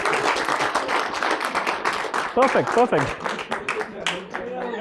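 Audience clapping at a stage mind-reading show after performers bow, loud scattered applause mixed with a voice speaking over it throughout.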